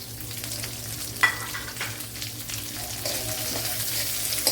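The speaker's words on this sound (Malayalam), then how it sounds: "ഇനി ഒരു ചെറിയൊരു സവാള അരിഞ്ഞു വെച്ചിട്ടുണ്ട്, അതും കൂടെ ഇട്ട് കൊടുക്കുക" Chopped onion frying in a pan with garlic and ginger for a soya chunks fry: a steady, close sizzle broken by a few sharp stirring scrapes that grow slightly louder toward the end.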